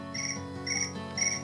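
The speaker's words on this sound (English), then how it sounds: "Crickets again. Oh, that's my phone." Phone ringtone of chirping crickets sounds in three short, bright, evenly spaced bursts, fairly quiet and close, with no voices over it.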